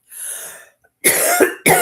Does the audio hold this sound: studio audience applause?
no